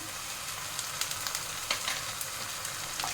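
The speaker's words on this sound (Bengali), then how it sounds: "ভেজে নিতে হবে যাতে আদা রসুনের কাঁচা গন্ধটা না থাকে।" Ginger-garlic paste frying with onions in a pan for palak paneer: a steady, close sizzle with scattered spits and crackles and light stirring taps throughout.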